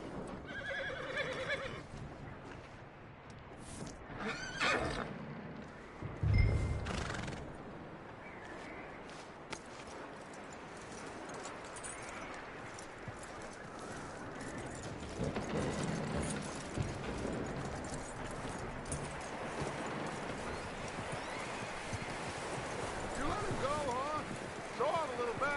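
A horse in Red Dead Redemption 2 whinnies and its hooves clip-clop on the ground, mixed with game ambience and background noise. A voice speaks over the sounds at times.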